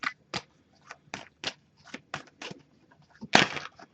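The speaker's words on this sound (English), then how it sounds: "I'm just going to give this a few more shuffles, and then we'll put the deck down" Oracle cards being shuffled by hand during a tarot reading, a series of short papery riffles and flicks in irregular rhythm, close and fairly quiet, ending with one louder burst of cards.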